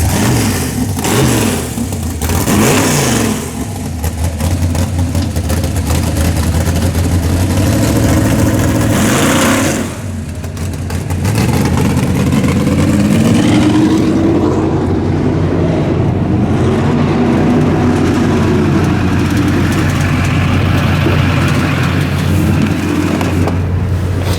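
Carbureted V8 car engine with a tunnel ram intake and S10 heads, running loud and steady with gargling, uneven revs and a brief dip in the middle, heard alone.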